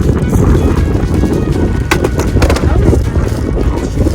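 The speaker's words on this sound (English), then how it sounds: "It's so windy out." Strong wind buffets the microphone with a loud, continuous low rumble, broken by a few sharp rustles and knocks.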